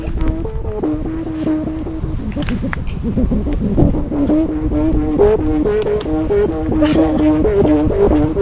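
A kite hummer gives a steady droning hum with wavering harmonic tones, loud and continuous in strong wind, rising and falling slightly as gusts push it, with wind noise underneath.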